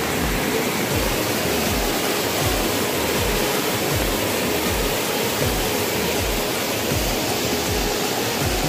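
Floodwater rushing through a swollen river beside farm fields, a steady, loud broadband roar with continuous churning and no pauses, alone without voices.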